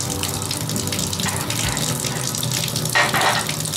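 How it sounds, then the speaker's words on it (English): Water runs from a faucet fitted with a Danco single-handle cartridge valve whose gasket is worn, giving a steady, close hiss and splash with a brief louder gush near the end. "More water coming out."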